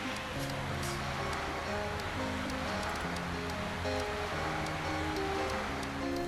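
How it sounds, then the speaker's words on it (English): Lake Michigan water laps steadily at a private beach, a continuous close wash of surf with a faint low hum running beneath it. "you can actually hear the water"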